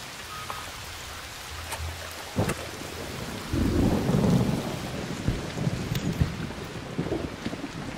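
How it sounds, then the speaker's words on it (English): A video game thunderstorm with lightning: steady rain patters throughout while sharp lightning cracks strike and a deep thunder rumble swells in the middle, loud and close, with no voices. "Beware the lightning strikes if you're outdoors"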